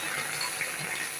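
Water pours in a brief, continuous gush into a hot kadai while dried chillies are being prepared.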